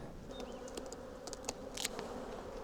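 Honeybees buzz steadily around a hive near a flowering apple orchard, a soft continuous drone with a few closer passes and light clicks, no talk.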